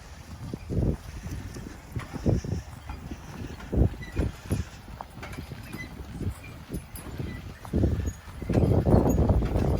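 Draft horses pull logs through the woods, their heavy hooves thudding irregularly as single, close, low impacts with pauses between them, plus a rougher dragging rumble toward the end.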